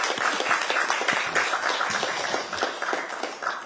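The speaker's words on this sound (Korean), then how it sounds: "수고했다는 의미로 좀 박수 치면서 시작하도록 하겠습니다." Lawmakers clap at a parliamentary party leadership meeting: a few seconds of close, crisp applause from a modest group, individual claps distinct and fairly steady throughout.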